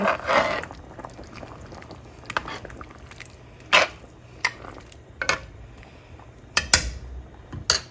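A spoon stirs fresh ground black pepper and salt into a pot of beef stew, giving scattered scraping and soft knocks against the pot with a few sharper clanks, fairly close, with faint background noise and no speech.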